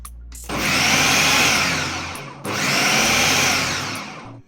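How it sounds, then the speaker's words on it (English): A food processor mixing flour into meat pie dough whirs loudly at high speed in two long bursts separated by a brief pause, its motor pitch steady and close. "let's use our food processor to finish up our dough of meat pie"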